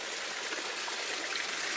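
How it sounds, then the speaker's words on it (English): Water pouring from a very large pipe down into a creek on a property, a steady broadband rushing gush that holds constant without pause. "a very large pipe, which is pouring the water down onto our property"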